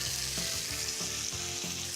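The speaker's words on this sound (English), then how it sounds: "The next step is to seal the French rack of lamb in a lovely hot frying pan." A French rack of lamb sears presentation side down in a hot frying pan, giving a loud, continuous sizzle and crackle heard up close with no talk.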